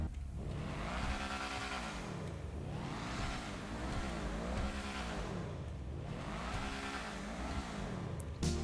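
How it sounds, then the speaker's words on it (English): An Ocelot Lynx sports car in GTA Online revs hard in repeated rising and falling sweeps, its engine note climbing and dropping in a steady cycle, close and loud with no talk over it. "The Lynx is a pretty good sounding car."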